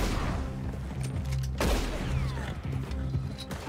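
Rapid bursts of gunfire in Red Dead Online with a booming impact near the middle, sharp cracks over a low mechanical rumble.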